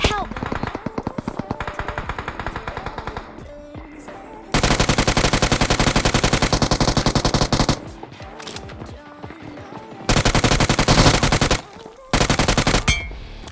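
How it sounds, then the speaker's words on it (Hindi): Rapid bursts of automatic gunfire from BGMI (PUBG Mobile), loud and sustained in long stretches with brief pauses between volleys, in a close-range fight near a building. "यहाँ पे बहुत जोर से गोली चल रही है"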